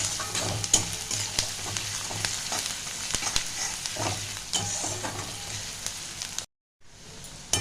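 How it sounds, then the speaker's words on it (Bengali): Onion and grated garlic fry in a pan with a close, continuous sizzle, stirred with frequent scraping clicks, before a brief gap of silence. "পেঁয়াজ আর রসুন একসঙ্গে ভালো করে ভাজবো আমি।"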